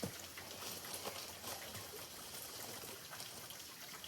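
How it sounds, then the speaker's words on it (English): Waterfall at an outdoor spot, heard as a soft, steady wash of falling and trickling water, faint and continuous with no voices. "Waterfall! Again, at the waterfall."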